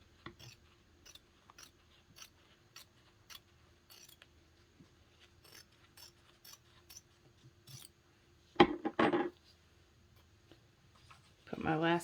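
Scissors snip fabric while a quilted clutch is machine-embroidered, heard as a run of short, faint clicks and snips, followed by two louder rustling bursts of fabric being handled.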